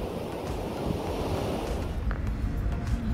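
Sea waves wash onto a sandy beach at Bata, Equatorial Guinea, a steady broadband surf roar with a gusty wind rumble across the microphone, fairly loud and continuous, no voices.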